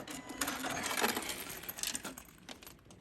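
A sewing machine stitches binding onto a fabric pouch, giving a soft, steady whirring run of close stitching that lasts about three seconds with a few louder bursts, heard alone without talk.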